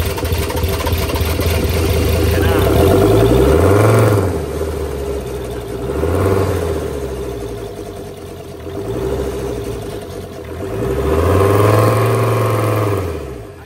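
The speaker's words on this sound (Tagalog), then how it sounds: "Sa wakas ay napagana na namin ang makina." A car engine runs after its four injectors were removed and refitted, steady idle swelling into several slow revs that rise and fall in repeated waves, loud and close with no talking.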